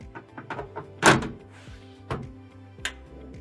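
A vehicle drawer system's rear top panel dropping into place during leveling kit installation, giving a solid metallic thunk with a few smaller knocks around it, close by and over a low background hum.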